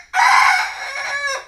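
Pepper, a Rhode Island Red rooster kept at a zoo, lets out a single loud, close crow lasting over a second, strong at first and trailing off toward the end, with no talk.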